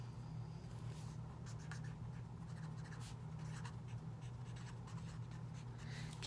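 A pencil scratches steadily across homework paper as a name is written, a soft continuous scritching with faint taps over a low steady hum.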